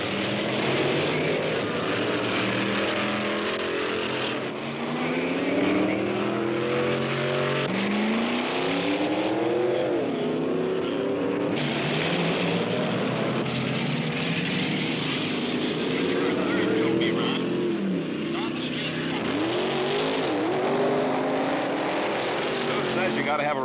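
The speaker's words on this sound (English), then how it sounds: "Run after run after run to squeeze every ounce of performance the engine has to offer." A hot rod drag racing car engine revs through repeated practice runs, with loud rising and falling roars in sweeping bursts over a steady background din.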